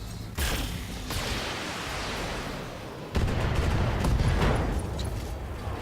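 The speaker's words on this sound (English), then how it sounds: "Ammo explosion, left arm, left torso destroyed." Mech weapons fire and an ammo explosion in a BattleTech-style mercenary video game: sustained booming gunfire and blasts, with a heavy hit about midway followed by continuous rumbling explosions, loud and without talk.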